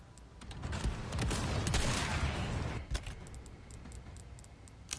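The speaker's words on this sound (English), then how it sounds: "I decided to just use the rest of my small heavy grenades." A heavy grenade blast in the Resident Evil 4 remake video game rumbles into a sustained roaring burst of crackling debris, followed by a sharp thud and scattered metallic clinks fading out.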